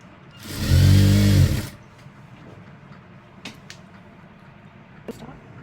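A tailoring sewing machine stitches an elastic uniform pant in one loud, rapid burst of about a second, then goes quiet apart from light handling clicks and taps.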